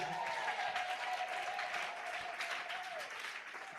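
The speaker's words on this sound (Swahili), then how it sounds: "Pigia Yesu makofi mazuri" A congregation at a Pentecost church service applauds for Jesus, producing a continuous, fairly quiet wash of crowd clapping that holds steady from start to finish, with a faint murmur of voices underneath.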